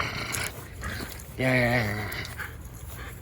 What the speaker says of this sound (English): It's time to play with the dog.